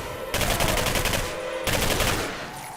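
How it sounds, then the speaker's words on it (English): Rapid automatic assault rifle fire in the shooter game Singularity, two loud sustained bursts of rattling shots at close range separated by a brief pause, with no voices. "Let's try with the assault rifle."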